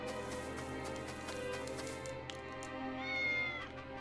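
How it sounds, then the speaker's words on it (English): A cat meows in the video game Triangle Strategy, a drawn-out tonal mew rising over a layered music bed and soft game ambience, fairly quiet and close. "Kitty says meow again."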